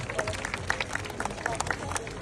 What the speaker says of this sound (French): on va applaudir Gloria, elle a franchement bien travaillé